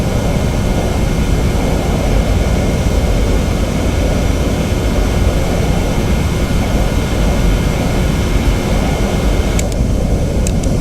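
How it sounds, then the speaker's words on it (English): Boeing 717 jet engines in a Prepar3D flight simulator roar as a loud, steady, broadband rumble and whine that keeps going with no clear spool-down, and a couple of faint clicks come near the end. "we'll shut down these engines"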